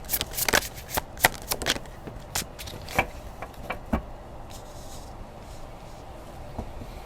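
A deck of cards is shuffled close by in a quick run of crisp riffles and taps over a few seconds, then fainter handling, with no talk.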